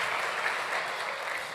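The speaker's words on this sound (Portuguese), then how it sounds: "Pode aplaudir o Senhor." A church congregation applauds during a Sunday service, dense, even clapping from many hands that carries on steadily and fairly loud.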